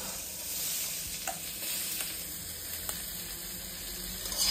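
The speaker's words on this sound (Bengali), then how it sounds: "পেঁয়াজটি ভাজা হচ্ছে" Onion and chopped vegetables fry in a pan with a steady, soft sizzle, stirred now and then with faint scraping clicks, moderately close and without any talk.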